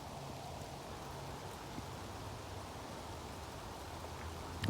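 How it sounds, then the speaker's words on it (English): Light rain patters steadily on the tree canopy of a park at sunrise, a soft, even hiss of drops on leaves held at low level throughout, with no voices. "But there is rain."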